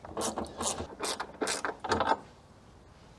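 A ratchet loosens the battery hold-down bracket in a BMW M2, making several quick bursts of close, sharp clicking in an irregular rhythm, then falling quiet.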